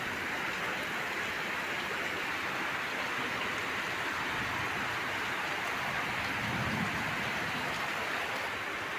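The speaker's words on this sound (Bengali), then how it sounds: "বৃষ্টি পড়ছে, আকাশ ডাকতেছে," Steady rain pours outside a balcony in a continuous, even hiss with a soft dull rumble rising briefly near the end, heard fairly close with no talking.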